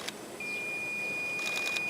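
A steady electronic beep from a drunk-driving ignition interlock breathalyzer holds one unbroken tone for about a second and a half while someone blows into the mouthpiece, ending with a couple of brief chirps.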